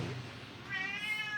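A cat gives a single faint, short meow, rising and wavering, heard alone at close range.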